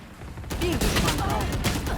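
Gunfire in the tactical shooter Valorant crackles in dense bursts throughout, loud and continuous after a quieter opening, with excited players talking over it.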